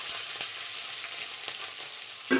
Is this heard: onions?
yes